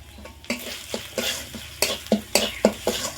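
Ground spices stirred in hot oil in a pan for egg biryani, with a steady sizzle broken by repeated scraping strokes of a spoon at an uneven rhythm, close and fairly loud.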